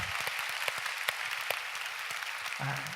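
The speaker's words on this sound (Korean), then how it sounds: "박수 한번 해주시죠" Steady applause from a sizable church congregation at a Sunday worship service, many hands clapping at once in a dense, continuous patter that holds throughout.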